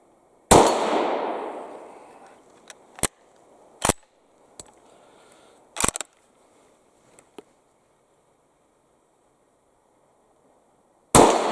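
Reduced-load 30-30 rounds fired from a customized Savage 340A carbine outdoors: a loud first report with a long fading tail, then several sharper, shorter cracks spaced seconds apart, and a final loud shot at the end.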